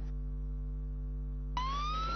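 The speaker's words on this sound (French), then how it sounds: "Le bruit des sirènes perce la nuit paisible d'un jeudi jusqu'alors ordinaire." An emergency vehicle siren at night near a fire at the National Assembly starts suddenly after a steady low hum, then rises in a single wail.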